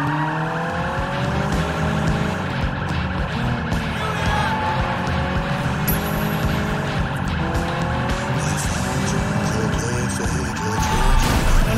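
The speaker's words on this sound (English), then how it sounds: "Is that alarm siren still following us?" A police siren in the video game Sleeping Dogs wails up and down continuously over a rumbling car engine and tire noise, with a brief squeal near the middle.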